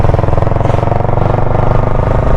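A Yamaha R15 motorcycle with its stock exhaust refitted runs close by, a loud, steady, throbbing engine note with even pulses and no break.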